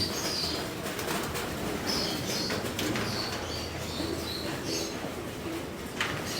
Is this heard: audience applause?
no